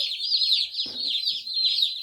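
Baby chicks peep in a continuous high, rapid chorus, close and fairly loud, with a brief low bump of handling noise partway through.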